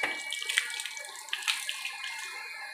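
Water poured onto a slab or flat surface splashes and trickles steadily, close and bright, with small droplet splashes throughout and no talk.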